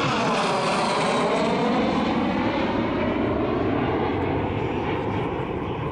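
A Polish MiG-15 jet fighter passing at an air show, a loud sustained roaring engine sound that slowly fades and shifts in pitch as the aircraft moves away.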